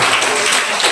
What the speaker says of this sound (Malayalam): ഒരു ക്ലാപ്പ് കൊടുക്കേ